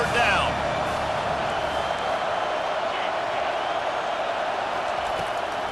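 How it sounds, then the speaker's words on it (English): A stadium crowd roars steadily at a college football game between Washington and Clemson as the defense lines up on third down, a dense, loud wall of noise that holds throughout. "Decibels rising as the crowd gets behind this defense on third down"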